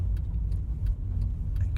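A car engine pulls away from a stop during a driving lesson, a steady low rumble with light ticking from the indicator on top, close and continuous.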